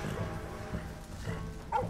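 A dog barks in the video game Red Dead Redemption 2, a few muffled, moderately loud barks spaced out under game ambience, with a short higher yelp near the end.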